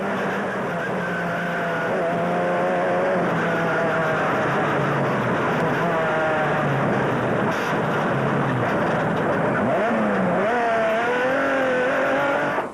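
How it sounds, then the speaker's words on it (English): Engine of the Atlas Copco Sandmaster off-road race car heard from onboard during the Baberspan 200 desert race in 2004, a loud continuous drone with rising and falling revs as gears change, steady throughout. "On board with race leaders Gert and Caroline Juster in the Atlas Copco Sandmaster"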